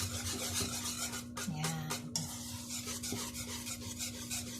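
Knox gelatin mixture being stirred by hand in a bowl, giving a steady scraping rasp of utensil against the container, close and continuous with a faint low hum beneath.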